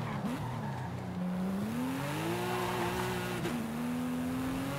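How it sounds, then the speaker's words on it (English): Porsche 911 GT2 RS in a Forza Horizon 5 street race through the city of Guanajuato, its engine droning steadily with a rising whine as the wheels spin, tires hissing under a constant loud roar. "Oh, I got wheel spinning."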